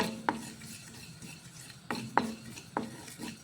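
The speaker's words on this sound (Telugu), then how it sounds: "మనం స్టవ్ ముట్టించుకొని కడాయి పెట్టుకున్నాం కదా, జీలకర్ర వేయించుకోవాలి." Cumin seeds being dry-roasted and stirred in a kadai, with scraping strokes of a spoon against the metal pan at irregular intervals over a faint, steady sizzle.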